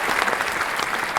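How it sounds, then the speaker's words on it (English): Steady applause from an audience at a corporate technology competition, a brief continuous burst of many hands clapping for the winning team. "A round of applause for them."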